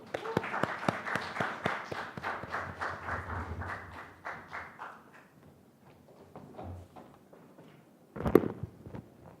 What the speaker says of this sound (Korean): 여러분의 큰 박수와 함께 들어보겠습니다.